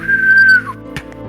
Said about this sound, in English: Yeah, whistle.